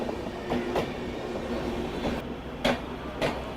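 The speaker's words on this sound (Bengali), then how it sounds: "এই পাশ দিয়ে ক্রস করছে নিউ দিল্লি শিয়ালদা রাজধানী এক্সপ্রেস" The New Delhi–Sealdah Rajdhani Express rolls past a station platform close by on the Barddhaman–Howrah Chord Line, its wheels clacking in a steady rhythm over rail joints amid a constant rumbling roar.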